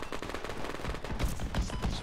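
Rapid gunfire crackles in Project Reality during urban combat in Fallujah, with bursts of automatic shots at mid-distance, fairly quiet and dense, and no talk over them.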